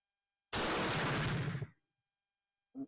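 A Danish rolling block rifle in 11.7 mm, loaded with IMR 4198 powder, fires one loud, close outdoor shot with a sharp blast and a quick fading report, followed by a short thump.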